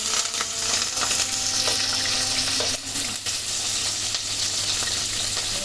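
Green chilies frying in hot oil give a loud, continuous crackling sizzle close by, with a brief dip near the middle and no talking.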